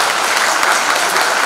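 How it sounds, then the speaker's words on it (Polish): Applause for a named guest at a Polish event, a dense, steady wash of many hands clapping across the whole stretch, loud and continuous with no talk over it. "Tak, wielkie brawa na Artur"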